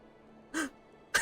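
A short breathy gasp from a character in the video game Final Fantasy XIV, rising quickly and cutting off, then a second sharp breath a moment later, close and clear over a quiet background.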